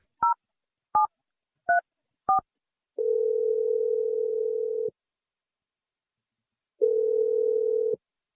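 Four short telephone keypad tones followed by two long, steady dial-tone bursts separated by a pause, heard while placing a call to a cell phone; clear and alone, with no talking.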